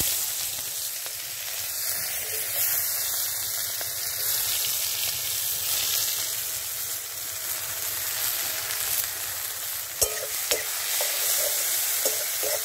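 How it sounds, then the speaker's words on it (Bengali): Chopped onions sizzle steadily in hot oil with cinnamon, cardamom and cloves, a continuous loud frying hiss with occasional light stirring clicks near the end. "গরম হয়ে গেছে, এবার আমি দিচ্ছি পেঁয়াজ কুচি"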